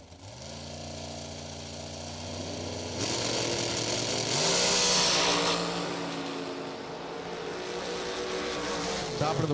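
A 2011 Racetech chassis dragster roars loud and close at a drag strip, its engine pitch rising sharply in stages as it launches and surges forward, with a steady mechanical drone sustained throughout.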